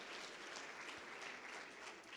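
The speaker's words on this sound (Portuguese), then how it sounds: "você pode dar uma salva de palmas por isso, pelo seu marido, em nome de Jesus." Applause from a church congregation during a Sunday evening service, a steady wash of many hands clapping at low level, continuous and unbroken with no voices over it.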